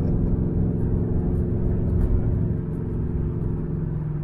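A Ford Maverick Grabber's engine drones steadily while driving, a dense low rumble with even road noise holding constant and close, no voices over it.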